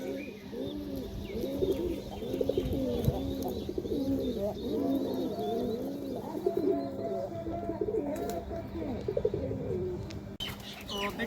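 Pigeons coo in repeated soft, rolling phrases at close range, several birds overlapping in a steady rhythm, with a few faint chirps and a brief flutter of wings behind them.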